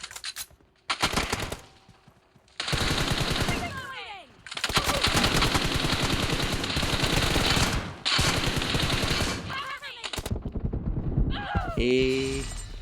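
Rapid bursts of automatic gunfire from a team deathmatch shooter game, loud and sustained, broken by short pauses, with a voice speaking briefly near the end.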